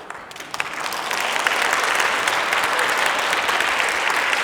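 A parish audience at a Lenten lecture breaks into applause, starting with a few scattered claps and quickly swelling into loud, sustained clapping from a large crowd that holds steady to the end.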